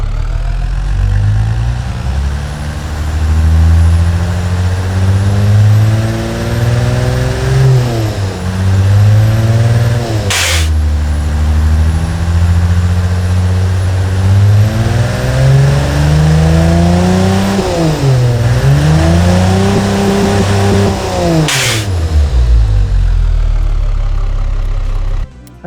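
Big turbocharged 6-cylinder engine in the Automation car-building game, revving repeatedly from idle, rising and falling in pitch over a continuous loud drone with no talking.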